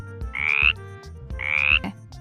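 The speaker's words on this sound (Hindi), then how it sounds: "ये ऊंची छलांग लगाता है और टर टर की आवाज करता है" A frog croaking twice in two rhythmic, drawn-out bursts, each a rasping, pulsing call, heard close and alone against a low background.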